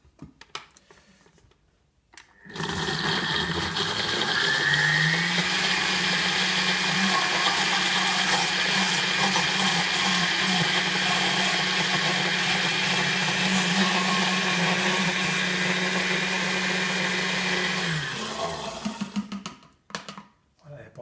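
A blender runs steadily for about sixteen seconds, loud and close, mixing leftover juicer pulp for bread, with a sharp start and a quick wind-down at the end.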